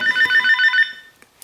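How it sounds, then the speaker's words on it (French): A telephone rings with a rapid warbling electronic trill, loud and close, in one burst that cuts off and fades into near silence, with no talking over it. "je coupe, c'est le téléphone, toujours le téléphone"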